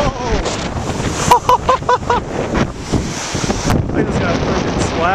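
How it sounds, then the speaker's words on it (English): Waves crash and splash on a windy shore, with strong wind buffeting the microphone throughout and a person exclaiming loudly during the surge of water. "I just got freaking splashed."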